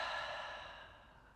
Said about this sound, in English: Nice soft exhale out the mouth